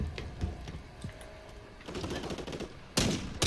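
Automatic gunfire in the shooter game Modern Warfare 3, heard as rapid clattering bursts at moderate distance, ending in a louder, closer volley near the end.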